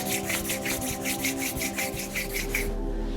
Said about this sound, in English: Let's rub our palms together, generating some heat.